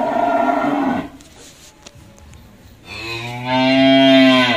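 A cream-coloured cow with horns, about 1.05 m tall, moos loudly twice in close range, a rough first call, a pause with faint background sound, then a longer rising, tonal bellow.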